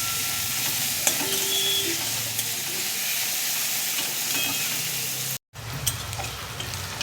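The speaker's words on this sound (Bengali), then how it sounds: "ফোড়নটা ভালো করে হয়ে গেছে, এবার আমি দিয়ে দেবো কুচনো পেঁয়াজ।" Chopped onion frying in a pan after tempering spices, for a rohu fish curry with elephant foot yam: a steady, loud broadband sizzle throughout, briefly cut by a short gap near the end before resuming.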